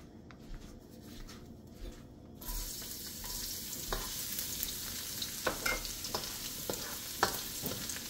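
Garlic dropped into a hot pan of oil for chicken feet, a faint sizzle that jumps up when the garlic goes in, followed by soft scraping and stirring clicks.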